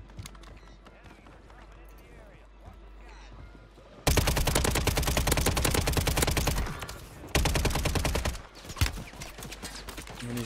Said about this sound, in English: And he's shooting at me with a pistol